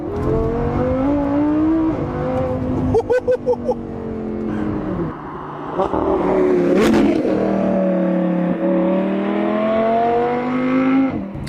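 A high-revving Audi R8 V10 Plus engine howls up and down through the gears, loud and close, with sharp shifts between pulls.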